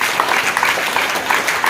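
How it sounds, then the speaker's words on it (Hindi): An audience applauds at a motivational speech, and the dense clapping stays loud and even for a brief burst. "ताली बजाने की बात है"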